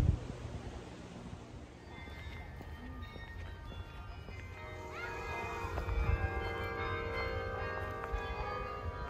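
Carillon tower bells at Bok Tower Gardens in Lake Wales, Florida ring out with sustained, overlapping tones, heard at a distance over footsteps, outdoor bustle and nearby voices.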